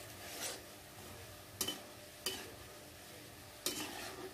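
Strips of nimki dough fry in oil with a faint, soft sizzle, broken three or four times by sharp scraping stirs of a utensil in the pan.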